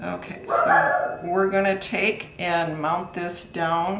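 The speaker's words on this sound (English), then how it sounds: "that is my dog out there barking" A dog barks outside during a card-making session, short yips and barks heard under someone talking close by.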